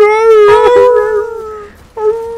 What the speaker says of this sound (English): All the neighborhood dogs just went crazy.